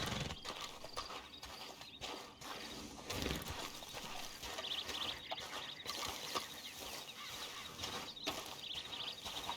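A horse in the video game Red Dead Online walks with steady clip-clop hoofbeats, close and continuous, over outdoor ambience with birds chirping faintly in the background.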